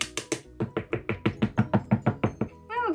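New makeup compact or powder container knocked repeatedly against a hard surface, about a dozen quick, evenly spaced close taps, followed by a short voice.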